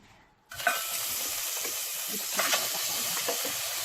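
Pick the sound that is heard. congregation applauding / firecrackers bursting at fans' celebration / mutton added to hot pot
mutton added to hot pot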